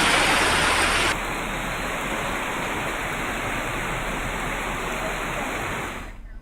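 Heavy monsoon rain pours down in Mumbai amid flooding, a dense continuous roar of water that shifts character after the first second and fades abruptly at the end, with no voices.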